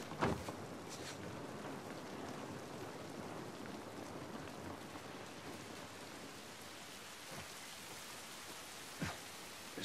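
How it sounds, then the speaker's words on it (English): Steady rain falls in The Last of Us Part I, a dense, even hiss of drops across the whole span, with a few faint taps and knocks standing out briefly. "This rain ain't gonna do us any good"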